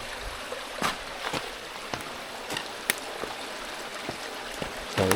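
A river near an abandoned Japanese shrine gives a soft, steady trickling murmur in the distance, broken by light scattered clicks and taps, faint overall with no speech.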